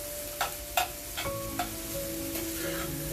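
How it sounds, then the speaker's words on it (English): Shrimp and sausage gumbo cooking down in a pot: a soft, steady sizzle and simmer with a few light clicks and taps of a spoon, quiet and close, with no voices. "So we're gonna let that cook down for a few minutes."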